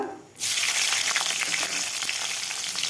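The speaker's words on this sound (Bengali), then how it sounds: "ফোড়নটা ভালোভাবে আমি ভেজে নেব" Whole cumin and green chillies hit hot fish-frying oil for a tangra fish curry, bursting into a loud, dense sizzle after a brief quiet moment and crackling on steadily.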